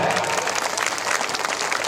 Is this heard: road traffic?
no